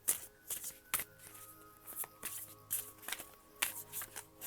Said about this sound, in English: we're going to start off with a Spirit of the Animal Oracle card, which I am currently shuffling as I talk.